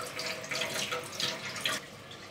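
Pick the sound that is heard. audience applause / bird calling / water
water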